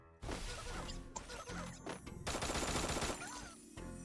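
Gunfire in the video game Free Fire: loud, dense bursts of automatic shots and crashing impacts rattling almost without pause, with a brief gap near the middle.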